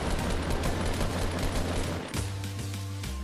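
Sustained Fortnite gunfire during a squad fight, a steady stream of rapid, loud shots layered over a low droning game hum, with a brief dip near the two-second mark before the shots continue.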